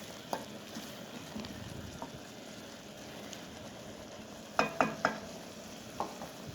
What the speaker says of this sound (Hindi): पालक और दाल को ढक कर 5 से 10 मिनट के लिए हाई फ्लेम पर पकाएंगे।